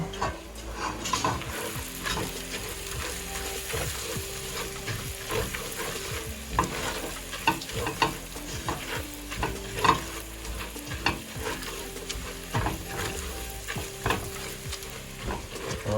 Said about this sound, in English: Just going to kind of stir that in there real quick.